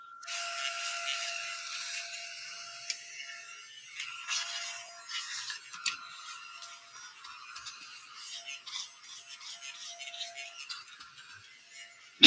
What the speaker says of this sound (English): This mini vacuum sounds so funny.